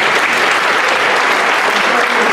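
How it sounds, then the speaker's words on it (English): An audience at a startup presentation event gives presenters a round of applause, loud, dense clapping from a crowd that stays even throughout. "Round of applause for you guys."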